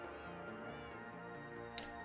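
A cat in Minecraft gives a short, clear meow, accompanied by soft background music.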